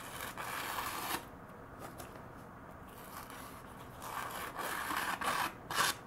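A 210mm VG-10 Sakon gyuto blade rasps back and forth across a whetstone in repeated close strokes, quiet gritty rubbing with short pauses and a burst of quicker passes at the end.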